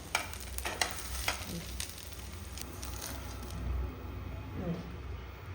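A rice flour dosa frying on a pan gives a steady, moderate sizzle, with a few sharp scraping taps near the start and faint background noise throughout.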